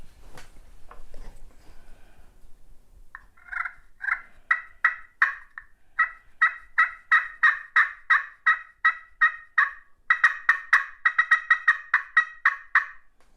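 Walnut pot turkey call played on a slate surface, producing rapid raspy yelps and clucks in quick rhythmic series, close and clear over a quiet background, building into faster runs toward the end.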